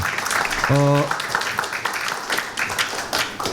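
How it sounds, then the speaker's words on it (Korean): Audience applause at a political seminar on citizens' right of resistance, a sustained wash of clapping from a crowd indoors, with a brief tonal voice or tone near the start. "박수 부탁드리겠습니다"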